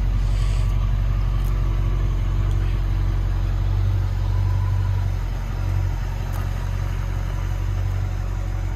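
A restored red 1967 Ford Mustang V8 coupe with black interior idles steadily up close, a continuous low rumble with no voices over it.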